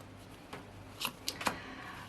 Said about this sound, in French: nous allons faire la coupe traditionnelle